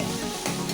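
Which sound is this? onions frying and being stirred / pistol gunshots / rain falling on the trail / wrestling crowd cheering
onions frying and being stirred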